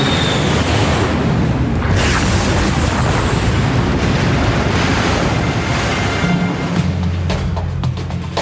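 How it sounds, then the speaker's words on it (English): Dramatized crash of Swissair Flight 111, an airliner hitting the ocean, rendered as a loud, sustained roaring wash of surf-like noise and rumbling boom that churns continuously throughout. "The aircraft hits the water with a force of 350 Gs."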